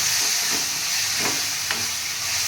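Crushed spices go into a hot pan for South Indian rasam and sizzle with a steady, close frying hiss, with a few soft stirring scrapes over it.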